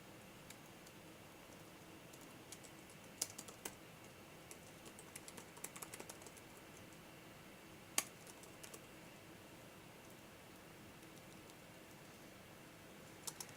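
Quiet, sparse keystrokes on a computer keyboard during coding, with irregular taps and a few louder clicks scattered over a faint steady background, no talking.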